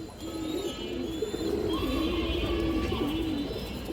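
Pigeons cooing steadily and close by, a soft repeated low coo running throughout among bird keepers' black Muslim-dam females, with faint chirps from other birds in the background.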